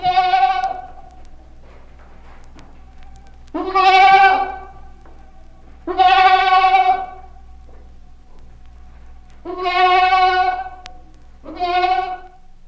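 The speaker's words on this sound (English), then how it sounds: "A mother goat separated from her kid bleats in distress." A mother goat separated from her kid gives loud, close, high-pitched and fairly prolonged distress bleats, five calls spaced a second or two apart with quiet gaps between, no voices.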